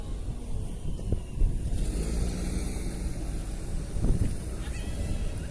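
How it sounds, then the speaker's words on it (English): A motor car approaches on a street in Amsterdam: a low, rumbling engine and road noise with wind buffeting the microphone, swelling slightly as it nears, no one talking. "like a motor car, I could hear this one coming"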